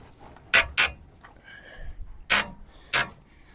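A wrench works on a bolt of a Nissan Frontier, giving four sharp metallic ratcheting clanks in two close pairs, fairly near and loud, with faint mechanical rattles in between and no talk.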